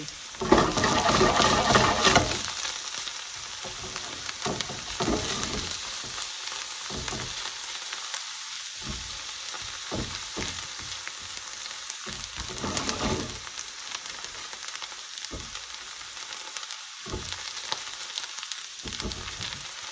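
Spinach and garlic fry in a pan for a home-style garlic prawn chilli saag, a steady crackling sizzle that starts louder and settles into a constant close hiss with brief sputters throughout.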